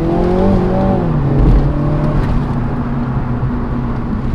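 A Mini GP3 driven fast drones loudly from inside the cabin, its engine note rising and shifting as it accelerates, with steady road and wind roar throughout.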